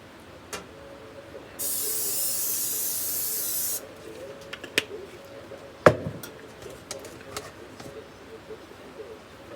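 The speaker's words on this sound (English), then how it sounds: "we're going to spray the pan with some cooking spray." A single steady hissing spray burst of cooking spray onto a pan, lasting about two seconds, followed by a few light clicks and taps.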